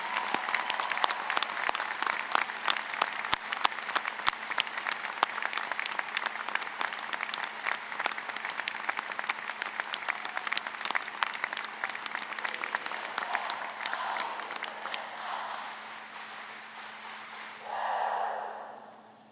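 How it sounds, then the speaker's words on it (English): Sustained audience applause at a college opening convocation, with many sharp individual claps, fairly close, continuing for a long stretch before fading out. "How about a big round of applause for all the members of Oriflamme?"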